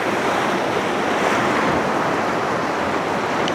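Wide, shallow stretch of the Middle Ocoee River flowing over rocks, a steady broadband rush of water with wind buffeting the microphone, continuous and fairly loud with no talking.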